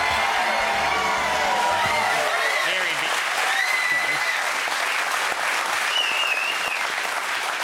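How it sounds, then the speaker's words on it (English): A television studio audience claps loudly and continuously in a sustained round of applause, with scattered whoops and voices rising over the clapping. "One of these claps. An Essendon clap."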